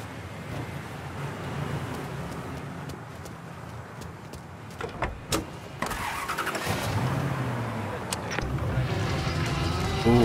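In Mafia 3, a car's engine cranks and catches, then rumbles and revs as the car pulls away and builds speed. Voices talk over the engine at the start.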